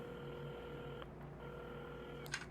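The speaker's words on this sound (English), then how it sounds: "at the counter, Carmen had started dialing the phone." A telephone is dialed in the video game Assemble with Care, steady tones sounding for about a second with brief breaks, then a short higher-pitched burst near the end.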